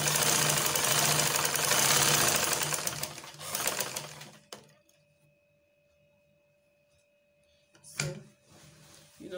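A sewing machine stitches a seam on a shift dress in two bursts, a busy rapid mechanical chatter for about four seconds, then quiet with a faint hum, then a short second run near the end.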